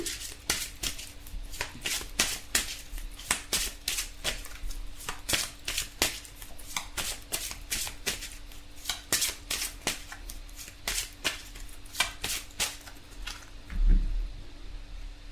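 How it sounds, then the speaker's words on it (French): Tarot cards being shuffled and drawn in a steady run of crisp, close flicks and riffles lasting most of the clip, with a soft thump near the end and no speech. "On va tirer une carte pour voir l'énergie globale."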